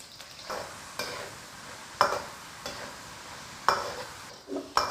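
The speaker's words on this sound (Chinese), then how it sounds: "锅内来一点油，下入土豆给它煎一下，" Potato pieces shallow-frying in a little oil in a wok give a steady close sizzle, with several sharp scrapes of a stirring utensil against the pan at irregular intervals.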